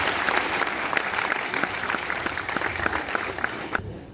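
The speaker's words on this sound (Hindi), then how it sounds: "जोरदार तालियों से आप उनका स्वागत करें" Steady crowd applause at a Hindi poetry gathering as a poet is welcomed to the mic, many hands clapping evenly throughout and stopping abruptly at the very end.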